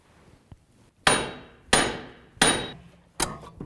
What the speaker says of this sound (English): I'm just going to hit the actual hub on the outside back and forth until it breaks free from the knuckle